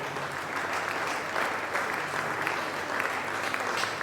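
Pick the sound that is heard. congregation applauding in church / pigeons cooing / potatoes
congregation applauding in church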